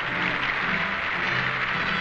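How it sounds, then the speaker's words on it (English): Sustained applause from an assembled Soviet gathering, including Stalin and company, greeting Latvian communist delegates in Moscow; steady, dense clapping throughout, with an even level and no pauses. "Stalin and company applaud the Latvian communist delegates."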